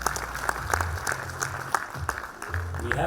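Graduation ceremony audience applauding for an honoree, moderately loud and steady with scattered sharper claps, a voice speaking over it partway through.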